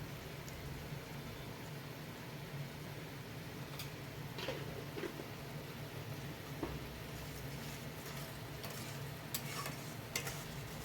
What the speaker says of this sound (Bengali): এইবারে আমি ভালো করে মশলাটাকে কষাবো যতক্ষণ না মশলার গা থেকে তেল ছেড়ে আসছে।